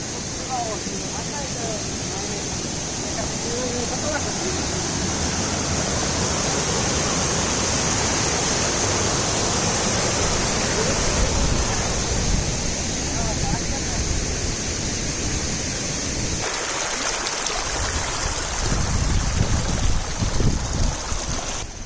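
Loud, steady roar of strong wind buffeting continuously on Ghangad Fort amid fog, broadband and unbroken, with a brief dip near the end before gusting back.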